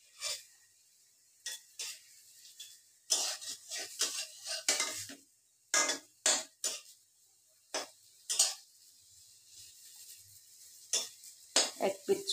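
Semolina and bread pitha fry in a pan, partly on a dry pan and partly in refined oil, with bursts of sizzling and scraping utensil clatter coming in irregular clusters against near silence.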